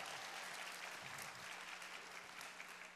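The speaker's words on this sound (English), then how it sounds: "Let's give a round of applause to Sivan Chow" A steady round of applause fills a hall at an annual Hmong district conference, a dense, even patter of many hands clapping at once, moderately distant and continuous throughout.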